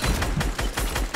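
A video game plays quick bursts of gunfire: several sharp reports in fast succession, loud and close, with no voices.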